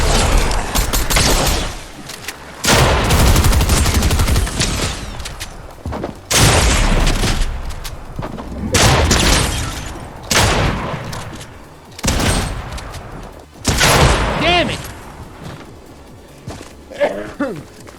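Shotgun fire in a video game: heavy, booming blasts repeat every couple of seconds, loud and close, with clattering game sounds between them.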